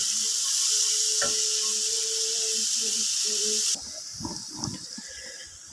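Chopped onions and green chilies fry on medium heat for Bengali shrimp dopiaza, a loud continuous sizzle with a few clinks of a spoon before it quiets to softer crackling and stirring.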